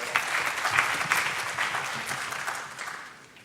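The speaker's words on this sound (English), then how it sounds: "A round of applause." An audience at a care experience champions meeting breaks into steady, dense applause without voices, holding at a moderate level before tapering off near the end.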